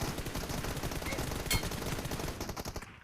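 Rapid video-game gunfire rattles as a dense, loud automatic burst running almost without a break, with one sharper crack midway, before cutting off at the end.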